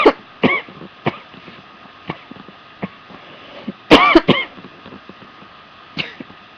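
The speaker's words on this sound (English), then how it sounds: "I tried to cough before the video starts." Several short, sharp coughs burst out at irregular intervals in a quiet room at night, with a tight cluster of loud coughs midway and fainter single ones before and after, no talking.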